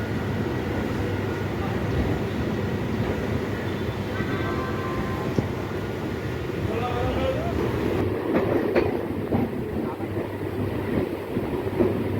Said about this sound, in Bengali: ট্রেন ছেড়ে দিল সঠিক সময়ে শিয়ালদা স্টেশনের একুশ নম্বর প্ল্যাটফর্ম